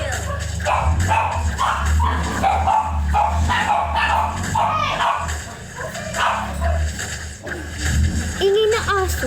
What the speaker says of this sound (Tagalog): Ingay na aso.